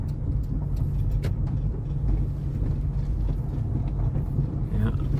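A car rolls steadily along a loose gravel road in New Zealand's South Island near Twizel, giving a continuous low rumble and crunch of tyres on stones with no break, close and fairly loud.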